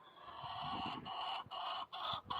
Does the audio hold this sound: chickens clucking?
yes